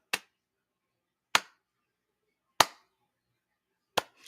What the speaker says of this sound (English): Slow clap on that